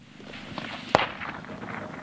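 Partial detonation of a white 7-inch Boomershoot reactive rifle target at a rifle clinic, a single sharp crack near the middle of a short quiet stretch, fairly distant with faint outdoor background.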